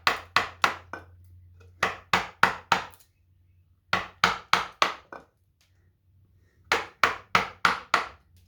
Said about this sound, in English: Can't beat the sound of a chisel drove into wood.